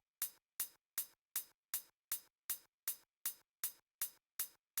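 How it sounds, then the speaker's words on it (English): Closed hi-hat from a soca beat ticking alone, a dozen crisp, short, even taps at a steady moderate pace. "Then we have the hit hat, which sounds like this."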